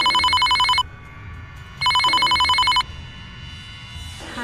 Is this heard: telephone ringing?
yes